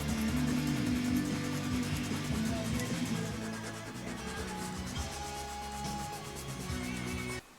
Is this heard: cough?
no